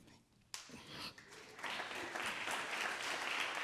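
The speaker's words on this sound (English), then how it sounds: "That's more applause than I got." Audience applause at a community forum on fair maps, broad steady clapping from a seated crowd that swells after a brief quiet start and keeps going at moderate loudness.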